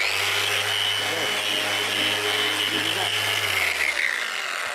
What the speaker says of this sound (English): could you start sanding it down while I get on this end?